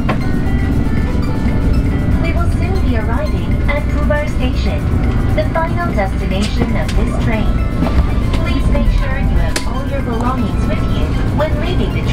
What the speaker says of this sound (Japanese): 列車はもう今まもなく河南駅に今到着しようとしているところで